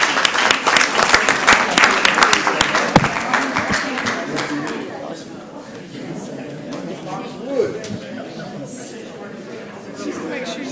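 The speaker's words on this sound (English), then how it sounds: "Let's give them a round of applause." A round of applause breaks out at a Columbus, Georgia city council meeting, loud sustained clapping from the room that gradually thins out while crowd chatter and talking carry on underneath.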